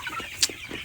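Chickens in a semi-free-range coop give a single brief, clear cluck over a low murmur of the flock nearby.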